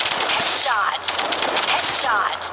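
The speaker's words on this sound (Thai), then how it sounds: "เวลาผมยิงทีละสามนัดเนี่ยเอาเป้าไปที่อก" A Vandal rifle fires in the Hyper Front video game, rapid close gunshots in short bursts that crack sharply one after another, with a brief pause in the middle.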